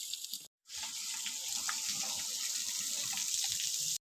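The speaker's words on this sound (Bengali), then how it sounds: "এখন ওয়ালেতে জল দেওয়া হচ্ছে।" Water sprayed from a hose onto a newly built brick wall at a house under construction, a steady hissing rush that cuts out briefly and resumes, continuous and fairly close.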